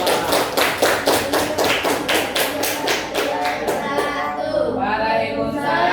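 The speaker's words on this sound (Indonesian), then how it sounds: "berikan tepuk tangan untuk kelompok 2" A class claps for a student group, with rhythmic, evenly spaced group claps close by, fairly loud, then breaking into looser, scattered clapping and murmuring voices near the end.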